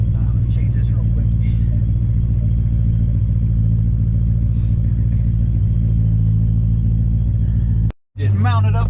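A red Dodge Scat Pack with a Hellcat Hemi V8 making over 800 wheel horsepower idles with a loud, steady, deep rumble, voices talking over it, broken by a brief dropout near the end.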